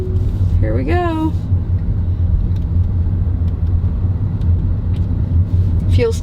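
A steady low road rumble fills the cabin of a Tesla driving itself on Full Self-Driving through Los Angeles traffic, with brief rising vocal sounds from people inside near the start and end.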